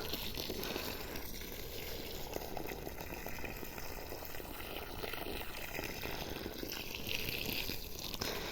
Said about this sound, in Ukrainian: Зараз гарно залью водою